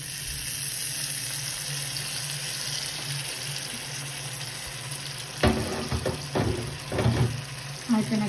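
Frozen prawns deep frying in hot oil for a prawn curry, a steady sizzle running throughout with louder clattering stirs and splashes toward the end.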